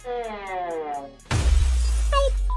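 A glass door suddenly shatters with a loud, sharp crash that follows a stretch of a tonal voice, then breaking glass rings out in a noisy burst with a short voice after it.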